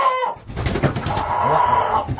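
A young rooster of this year's hatch, a very large bird, gives a short run of loud, close clucks and throaty calls, alone without talk.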